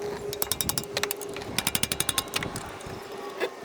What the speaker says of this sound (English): Loosening up this cam bolt while the belt is still on.